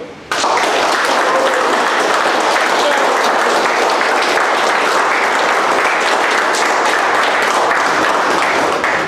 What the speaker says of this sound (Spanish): Quiero ver un aplauso para ustedes, por favor.